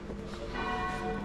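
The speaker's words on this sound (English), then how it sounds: "And you can hear the church bells going off." Church bells ring out at midday in Luxembourg City, a sustained, reverberant tolling heard outdoors at moderate distance, steady and without speech over it.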